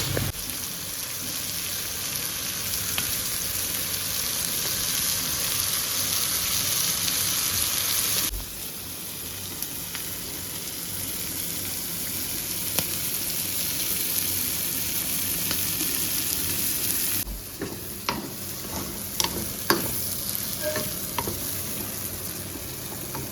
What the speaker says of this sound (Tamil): இது நல்லா சிம்மில் வச்சு கொஞ்சம் நல்லா வறுத்து எடுத்துக்கலாம்.